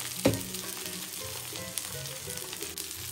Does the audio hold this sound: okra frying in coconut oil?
yes